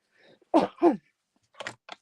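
Two close, sharp coughs from a dog with kennel cough, then a pause and a few softer, shorter coughing bursts; no talking.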